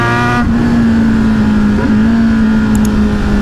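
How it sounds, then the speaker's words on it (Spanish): Kawasaki Z900 motorcycle with small aftermarket Project exhausts revving hard on a road test ride, a loud steady engine drone holding close and continuous throughout. "Esos escapes, ese Project pequeñitos, suenan bastante duro."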